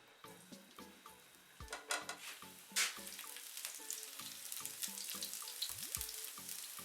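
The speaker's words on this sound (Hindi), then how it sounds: "लहसुन को हल्का सा ऑयल में फ्राई करने के बाद" Chopped garlic fries in cooking oil in a pan, a quiet close sizzle with frequent clinks and scrapes of stirring and a louder burst partway through.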